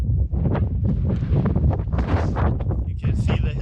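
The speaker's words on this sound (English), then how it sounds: "It's quite windy, also a little bit cold" Strong wind gusts buffet the microphone on a cliffside hill on El Hierro, making a loud, continuous low rumble with rustling, and a voice can be heard faintly in the gusts.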